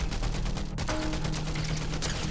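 Rapid bursts of weapon fire in Fortnite, loud and continuous with dense repeated shots, a brief pause near the middle, then more sustained firing.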